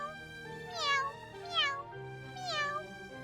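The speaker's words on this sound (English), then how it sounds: "Well, this cat's happy, so I'll let you off easy just this once." A cat meows three times in Fire Emblem: Three Houses, each call a clear rising-then-falling mew spaced about a second apart over a steady low game music bed.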